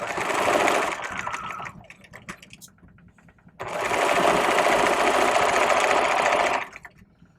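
A sewing machine stitches a vest bag lining with the shoulder seams held open under the foot, running in two long steady bursts of rapid mechanical chatter with a quieter pause between, loud and close.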